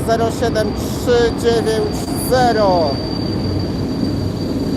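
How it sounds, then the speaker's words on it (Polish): An old EP07 electric locomotive hauls the TLK Nida passenger train into Warszawa Śródmieście station, giving a steady, broad rumble under close, excited talk. "Wjeżdża sama ona, gwiazda wieczoru, TLK Nida, Warszawa Wschodnia, Kielce, stara lokomotywa ją prowadzi."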